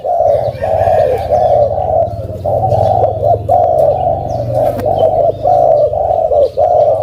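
A dove coos repeatedly in a steady, rhythmic series of low, hollow calls, close and clear with no talking.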